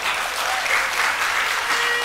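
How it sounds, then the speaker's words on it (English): A crowd at a UNC political meeting in Caroni East applauds in a continuous, bright wash of clapping, steady and fairly loud with no voices rising above it. "Let's give them a round of applause."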